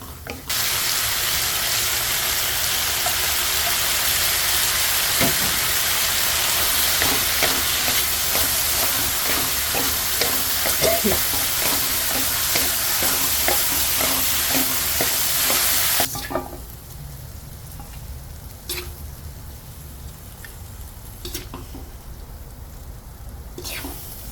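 Pork and bitter melon stir-frying in a very hot pan produce a loud, dense sizzle with repeated stirring scrapes for most of the span, then the hiss drops sharply, leaving faint clinks and scraping.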